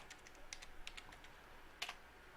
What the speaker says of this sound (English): let's just type it in again